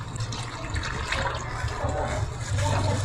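Coconut milk is poured into a pot of simmering taro leaves for laing, making a continuous rushing, bubbling liquid sound throughout, close up with no talking.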